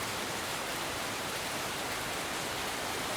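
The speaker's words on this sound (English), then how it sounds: "persistently raining" Steady, dense rain falls at a resort in Bali, a continuous even hiss with no breaks or distinct drops standing out.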